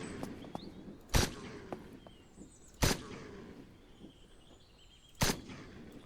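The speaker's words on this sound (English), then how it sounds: "I do like the sound of this gun, though" Three sharp gunshots from a firearm in the zombie survival game Surroundead, well spaced and irregular, each a loud crack standing out over quiet ambient background with faint small clicks between.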